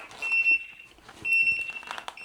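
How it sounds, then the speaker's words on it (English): Turn signals on a Lumos Sonorus smart e-bike helmet sound two sustained high electronic beeps about a second apart, close by, with light handling noise between them. "as you hear, they all beep at the same time"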